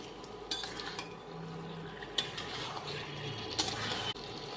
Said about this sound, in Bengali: চিকেনটাকে ভালো করে নেড়ে নিতে হবে যাতে কড়াইতে লেগে না যায়